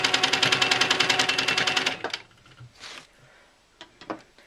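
A sewing machine stitches a straight seam on a quilt block, running in a fast, steady needle rattle for about two seconds before stopping, followed by faint handling clicks and rustles.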